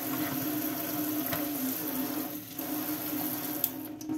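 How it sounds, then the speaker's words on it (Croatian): Water from a tap runs steadily into a kitchen sink during cleaning, a constant, close rushing hiss with a faint hum beneath and a small knock near the end. "Sada sam isključila vodu"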